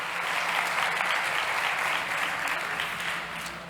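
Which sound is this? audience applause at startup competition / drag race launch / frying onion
audience applause at startup competition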